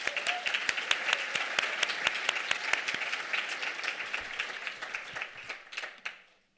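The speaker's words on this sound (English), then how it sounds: "Just join me in a quick round of applause for our sponsors." An audience at an author talk during a winter literary series breaks into a round of applause, with dense clapping that holds steady for several seconds and then thins out and fades away.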